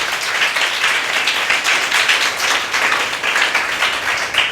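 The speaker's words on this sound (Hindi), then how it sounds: "सभी लोग ताली बजाएं इसके लिए।" An audience at a government school Teachers' Day event in Dhanapur claps together, a continuous, fairly loud patter of many hands with a slightly pulsing rhythm and no talk over it.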